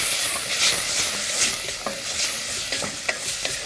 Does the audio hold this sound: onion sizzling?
yes